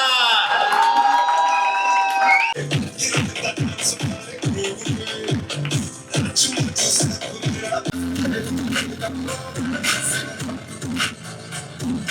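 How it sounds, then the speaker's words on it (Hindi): A celebration crowd in Bhuranpur, Madhya Pradesh, bursts into loud cheering, whoops and shouts after a brief musical intro, with rhythmic clapping and a speaking voice over the noise. "उनके लिए जोरदार तालियां"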